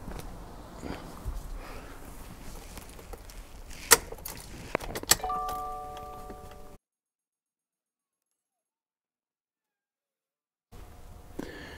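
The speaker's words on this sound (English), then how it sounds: "now we have to turn the ignition to the off position to re-begin the vehicle initialization" Car keys jingle and knock against the ignition of a Subaru WRX or STI as it is turned off, close and fairly quiet. A short electronic chime follows, then the sound cuts to silence before faint background noise returns.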